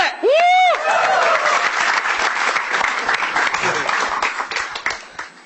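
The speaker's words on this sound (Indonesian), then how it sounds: "Kita langsung berikan tepuk tangan untuk bintang BT." Loud sustained applause from a comedy-show audience at a stand-up battle, dense clapping filling the whole stretch after a brief rising tonal whoop at the start.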